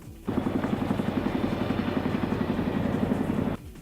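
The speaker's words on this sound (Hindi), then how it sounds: "इसके अलावा चिनूक हेलीकॉप्टर भी यहाँ अपनी ताकत दिखाता नजर आया।" A Chinook twin-rotor military helicopter flying during a naval show of strength off Singapore, its steady rapid rotor thudding loud and continuous for about three seconds before cutting off.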